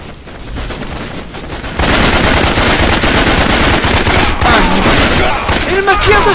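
Dense, sustained automatic gunfire and rapid shots from the jungle shooter game Raven Squad, loud and continuous, swelling after a quieter opening with a few tonal cues near the end.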